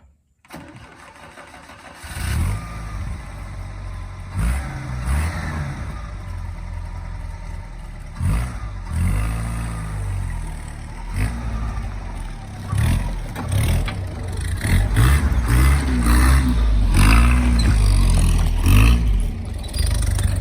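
An off-road vehicle's engine runs steadily on a trail, revving up and easing off repeatedly through a slow multi-point turn, close and fairly loud, with some intermittent thumps and rattles.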